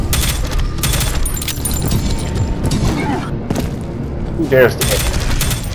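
Automatic gunfire in the shooter game Prodeus comes in several bursts of rapid, loud, crackling shots, separated by short pauses with clanking mechanical sounds, and a voice speaks briefly partway through.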